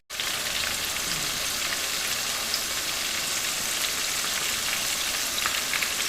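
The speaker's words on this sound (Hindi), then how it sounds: "इसको तेज़ आंच में शैलो फ्राई करना है।" Small eggplants shallow frying in hot oil over high heat: a steady, close, dense sizzle and crackle that continues evenly throughout, with no talking.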